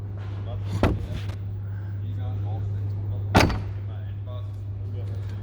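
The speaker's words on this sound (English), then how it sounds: "And you can open the door from the inside." Inside a VW Crafter MegaMobil Reactiv 680 campervan, a door is opened from the inside with two sharp clunks of the latch and handle, close up over a steady engine or generator hum.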